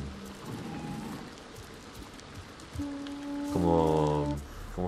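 Rain falls in the game Avatar Frontiers of Pandora as a steady, moderate patter throughout, with tonal game sounds and musical notes layered over it.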